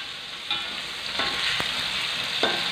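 Chili and shallots fry in a pan with a steady close sizzle, punctuated by a few sharp scrapes of stirring.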